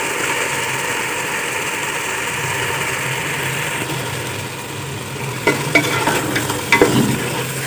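Kachnar chicken with tomatoes being mixed in a pan, a steady low sizzle with a constant hum throughout, then a few scraping clinks of the spoon against the pan toward the end.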